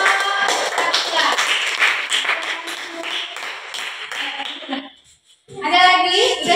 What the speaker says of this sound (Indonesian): tepuk tangan dulu untuk kelompok Sakura